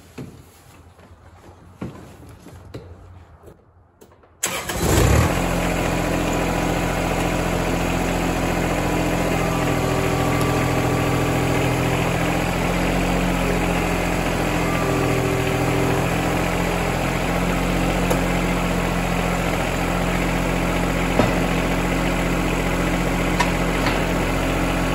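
A John Deere 2210 compact tractor cranks briefly after a few seconds of quiet handling noises, catches, then settles into a loud, steady diesel idle that holds unchanged for the rest of the stretch, up close.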